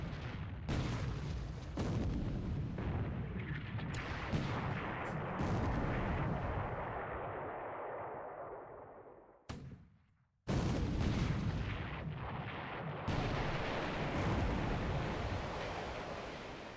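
Warship big guns, including those of the Prince of Wales, firing in the War in the Pacific game: loud, rolling artillery booms fill the clip, broken by a brief drop near ten seconds before the barrage resumes.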